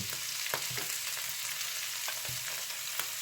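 Mushrooms and sliced shallots stir-frying in a hot pan, a steady close sizzle broken by several sharp spatula scrapes and tosses, with no talking.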